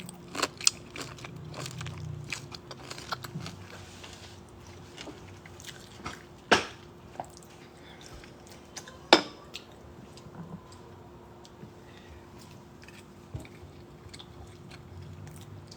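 Crunchy food such as kimchi being bitten and chewed close up, with a few sharp crunches standing out among softer, scattered chewing clicks and light clatter over a quiet background.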